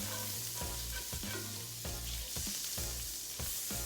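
Half a tablespoon of butter sizzling in a pan of herb chicken drippings, with repeated rhythmic scraping strokes over a constant crackling fry.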